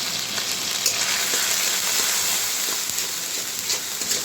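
Potato sautéing in a pan with sweet potato leaves, chili powder and salt, gives a steady close sizzle and frying hiss with faint occasional scrapes, no one speaking.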